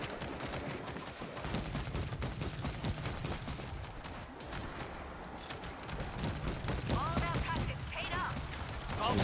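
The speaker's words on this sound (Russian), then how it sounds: "А, тут пулемет тяжелый." Heavy machine gun fire in World War Z: Aftermath, Tokyo level, a continuous dense barrage of rapid shots with mechanical clatter, loud and close throughout, with a brief voice heard over it.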